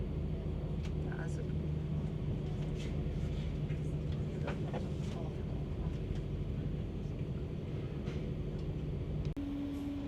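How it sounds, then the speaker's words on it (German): Diesel NEG regional train running on the line toward Sylt, a steady low rumble and drone heard from inside throughout, with faint clatter and brief tonal hums, ending in a shift in tone near the end. "Genießen wir den NEG-Zug."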